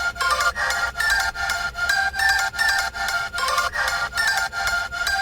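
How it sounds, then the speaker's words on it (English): A bright synth pluck, equalized, plays a steady rhythmic pattern of short repeated notes for several seconds, close and moderately loud with no voices. "And then we have this pluck sound here."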